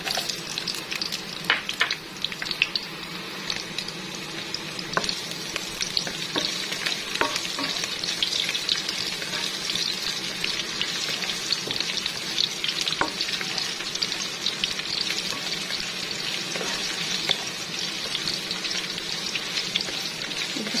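Chopped onion hits a pan where garlic is already browning, giving a steady, close crackling sizzle with scattered pops and stirring scrapes that runs unbroken throughout, with no voices.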